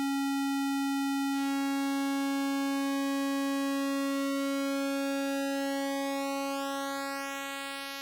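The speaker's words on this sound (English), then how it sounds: "it's going to start to make the width of the pulse for the square, it's going to start shrinking it" Arturia PolyBrute analog synthesizer holding a steady square-wave note while the pulse width narrows, the bright upper harmonics sweeping and thinning over several seconds; a clean, sustained tone heard alone.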